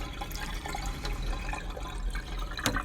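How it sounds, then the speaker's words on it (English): Soaking water is poured off sprouting sunflower seeds into a sink, a steady close splashing trickle with small drips and a brief louder splash near the end. "So I'm going to go and get rid of this yucky water."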